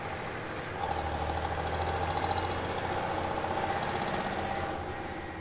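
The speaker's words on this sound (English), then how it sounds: "I heard the unmistakable sound of an engine revving up behind me." A truck engine revs up behind a car, a steady mid-low drone that swells slightly and holds through the stretch, fairly close and constant with no talk.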